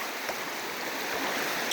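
Water of Waddell Creek rushes steadily past a hiker wading through the river, a faint, even broadband flow with no talk.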